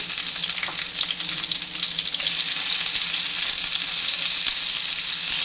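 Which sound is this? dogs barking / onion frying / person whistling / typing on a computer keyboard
onion frying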